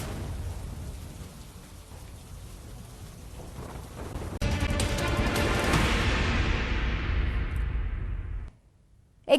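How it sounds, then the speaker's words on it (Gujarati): Heavy monsoon rain in Gir Somnath, Gujarat, a steady broadband wash that swells into a louder downpour with a thunder-like rumble partway through, then cuts off abruptly near the end. "ગીર સોમનાથમાં પણ વરસાદ થઈ રહ્યો છે"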